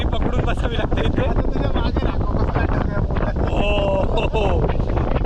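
Strong wind buffets the microphone at a riverside fishing spot under an umbrella, a constant loud roar with flapping bursts throughout, and no clear talk.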